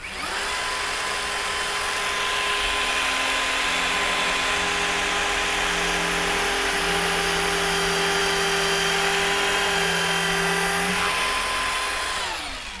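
Kreg Rebel pocket hole machine drilling half-inch plywood, a loud steady high-pitched motor whine and bit grind held close for about ten seconds before winding down, with no talk.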